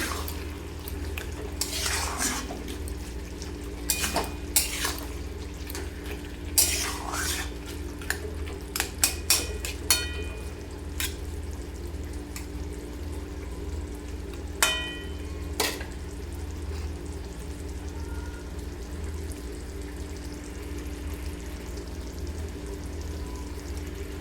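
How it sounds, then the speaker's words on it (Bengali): Bottle gourd curry with fish head stirred in a pan, soft frying sizzle broken by a run of scraping spatula strokes and metallic clinks against the pan in the first half, then a quieter steady simmer. "মিষ্টিটা দিয়েও আর একটু নাড়াচাড়া করবো"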